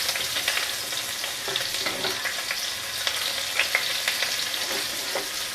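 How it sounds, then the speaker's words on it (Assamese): Chopped onions go into hot oil in a pan with dried red chillies over a gas flame, giving a close, continuous sizzle with stirring scrapes and no talk. "পিঁয়াজখিনিও ৰংচোৱা হোৱালৈকে এনেকৈ ভাজি ল'ম"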